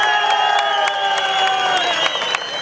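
Crowd at a jaripeo rodeo tournament in La Venta, Pedro Escobedo, Querétaro, cheering and clapping for the bull, a steady loud roar of voices and whistles with scattered claps, under a sustained high whistle-like tone.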